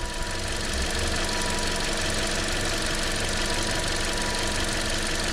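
A 2013 Toyota Corolla engine with all cylinders firing, a steady, even idle hum with a low rhythmic knock running close and unchanging throughout, with no voices.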